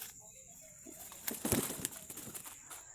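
A pigeon flaps its wings nearby in a burst of rapid fluttering beats, loudest in the middle, with faint outdoor background noise.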